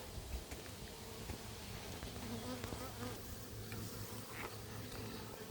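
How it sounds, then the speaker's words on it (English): Steady, dense buzzing of many honeybees and a few drones at close range on a hive frame, a continuous hum with faint scattered clicks and no voices. "a lot of little bees and a couple chubby drones on the outside"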